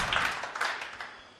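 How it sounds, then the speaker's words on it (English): Darts crowd applauding and clapping after a nine-dart finish attempt, a dense wash of claps that swells briefly and then fades over a second and a half. "A round of applause there from"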